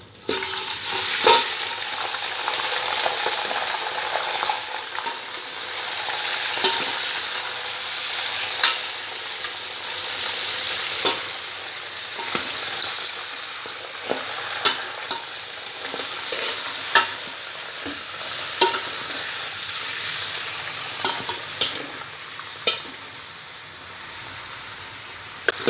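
Meat sizzling in hot oil with garam masala and bay leaf for haleem, a loud steady frying hiss broken by repeated scraping clatters of stirring throughout.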